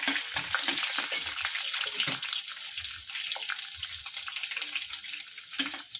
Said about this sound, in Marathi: कढीपत्ता, याला चांगलं परतायचं आहे आपल्याला।